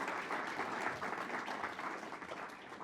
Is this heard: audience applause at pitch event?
yes